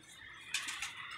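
A pigeon lands with a short burst of wing flaps midway, a soft close flutter against a quiet outdoor background.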